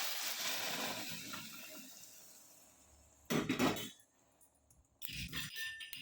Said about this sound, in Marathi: आता आपण पाणी ओतायचं आहे